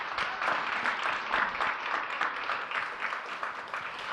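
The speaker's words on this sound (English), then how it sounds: "Let's give a round of applause to all of our award winners one more time." Soft, distant applause from an audience honouring driver and courier award winners at an Uber event, with dense clapping holding steady throughout.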